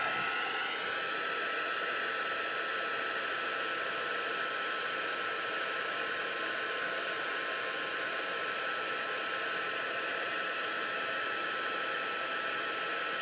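A heat gun blows steadily for the whole stretch, a continuous loud whooshing hiss like a hair dryer, warming embossing powder close by with no talking.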